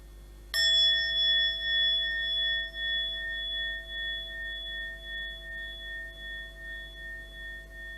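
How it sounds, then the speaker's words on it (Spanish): A single struck meditation bell rings out clearly once, its bright, pure tone lingering and slowly fading for several seconds in an otherwise quiet room. "Vamos a hacer un sonido de la campana antes de que desaparezcamos"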